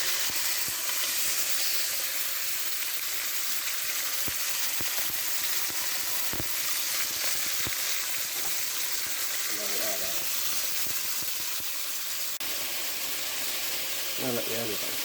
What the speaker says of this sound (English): So it should make a nice warm sizzle over here.